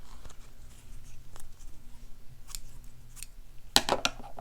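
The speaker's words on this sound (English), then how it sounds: "Just trim off some pieces here." Scissors trimming small pieces of fabric for slow stitching, a series of quiet snips and rustles close by, ending with a sharper crisp cut near the end.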